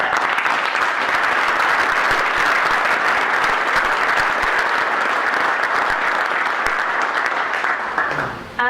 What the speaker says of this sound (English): So if we could give a round of applause to our partners for all of their efforts this year